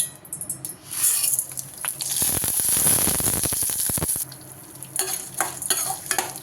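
Lentils roasting in a dry pan for cabbage chutney, stirred briskly so the dal rattles and hisses in a loud dense burst before easing into lighter scraping.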